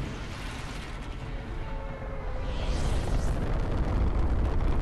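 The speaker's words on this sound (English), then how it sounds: "Bloody rocket going off, mate." The rocket launch in the video game Fortnite rumbles deep and broad, swelling steadily louder with a rising roar through the second half.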